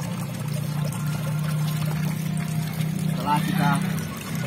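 Water from a small fountain spout trickles and pours steadily into a small backyard koi pond, a continuous splashing over a low steady hum, with a brief louder gush near the end.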